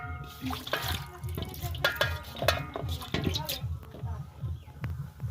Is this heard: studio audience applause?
no